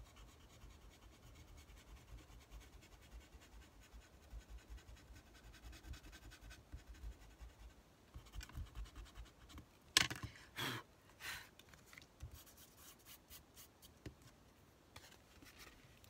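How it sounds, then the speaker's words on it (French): An eraser rubs gently across paper on a scrapbook layout, quiet soft scratchy strokes at first, then a burst of sharper, louder rubbing passes, all close and faint with no talking. "je vais venir gommer délicatement"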